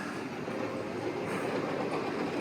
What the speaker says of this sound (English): a little figure-8 railroad, little choo-choo train for the kids.